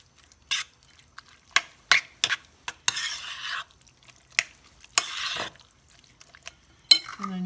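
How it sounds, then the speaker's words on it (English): Grated cheese is mixed into rice and bean casserole ingredients in a bowl, heard as sparse, close clinks and scrapes of a utensil with short wet stirring bursts between pauses, without talk. "Mix that together."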